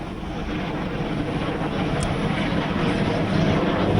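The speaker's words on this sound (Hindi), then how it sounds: "जिसमें आप देख सकते हैं राफेल को वहां पर लैंड करते हुए" A Rafale fighter jet landing, its engine a steady, loud broadband roar that holds constant throughout with no pauses.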